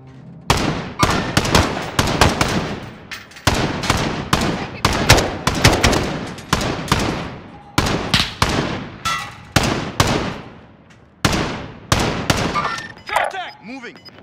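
Rapid bursts of automatic gunfire in the Call of Duty Warzone video game crackle loudly in repeated volleys with short gaps, close and sharp throughout, with a voice talking briefly near the end.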